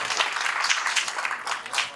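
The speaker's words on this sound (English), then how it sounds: "A round of applause, eh?" A conference audience applauds after a talk on internationalized domain names, giving brisk, dense clapping from many hands that holds fairly even over a couple of seconds.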